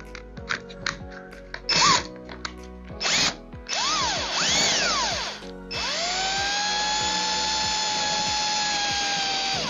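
A power drill tightening a towel rod toggle bolt, several brief whirring bursts followed by longer runs whose pitch rises and falls as the drill speeds up and slows, close and clear.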